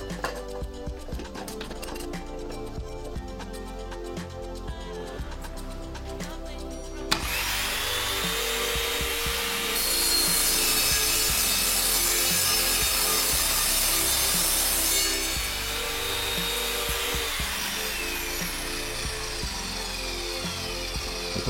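An Evolution R210SMS+ radial miter saw cuts through steel angle iron, a loud, steady grinding whine that jumps up sharply partway through and holds a harsh high-pitched screech for several seconds, with no talking.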